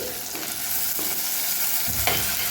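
Onion and garlic sauté in a clay pot, a steady close sizzle with a few spoon-stirring scrapes breaking through, no voices.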